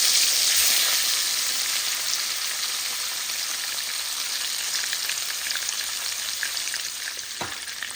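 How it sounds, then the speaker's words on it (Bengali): Sardines fry in a pan for dinner, a dense, even hiss of spitting oil that holds steady from start to finish, close and fairly loud, with one faint knock near the end and no speech. "এই যে এখানে সার্ডিন ফিশ ফ্রাই করতেছি।"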